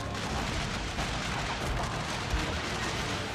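Artillery fire in a Civil War battle video game depicting the Battle of Fort Wagner, heard as a dense, continuous roar of booms and rumbling gunfire filling the whole stretch without pause.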